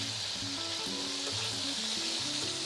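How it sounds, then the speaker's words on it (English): Chicken pieces browning in a pan for Brazilian galinhada sizzle and crackle steadily in hot oil, a close, continuous frying hiss with scattered pops and no one talking. "we're gonna leave it here to brown, to get really that dark golden brown outside"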